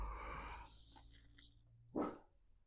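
A large boxer Rottweiler mix weighing 125 to 130 pounds lets out one deep, gruff bark near the end. Low breathy growling and background noise come before it, and the whole clip is fairly quiet.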